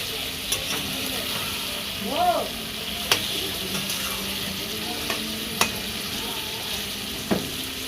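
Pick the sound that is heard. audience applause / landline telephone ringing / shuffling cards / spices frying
spices frying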